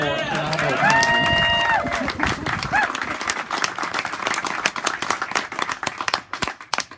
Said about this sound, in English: Can we have one more round of applause for